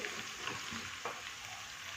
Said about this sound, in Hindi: यहाँ पर 2 से 3 मिनट हम अदरक लहसुन की भुनाई करेंगे